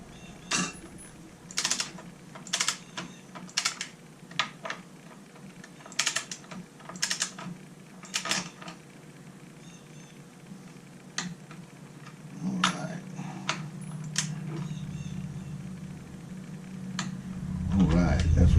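A torque wrench set to about 24 pounds clicks as fasteners are torqued down, producing a series of sharp, close, irregular clicks over a low background rumble that builds toward the end.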